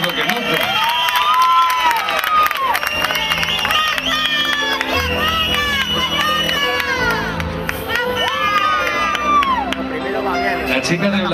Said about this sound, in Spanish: Reciban con un fuerte aplauso a María Alcázar, representante de Arbuniel.